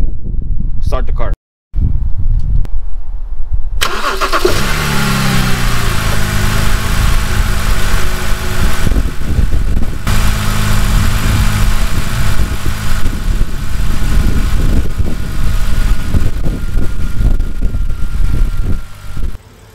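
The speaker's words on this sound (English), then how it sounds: "there's no problem jump starting the car with the Autoone jump starter" A car engine cranks and catches after a jump start from an Autoone JS02 portable jump starter, then settles into a steady, loud, close idle that runs on while someone talks over it.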